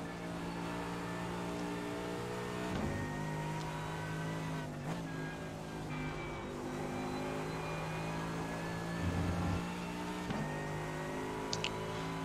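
A GT3 race car from the iRacing sim at Watkins Glen drones steadily at high revs, its engine pitch rising and dropping through gear changes with worn front tyres, a continuous loud in-car roar with no talking.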